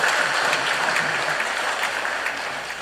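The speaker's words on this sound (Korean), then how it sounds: "우리 박수로 감사를 표합시다." Congregation applauding in a church during a Sunday service after a cello performance, a steady dense clatter of many hands held at even loudness for the whole stretch, close and full, with no voices over it.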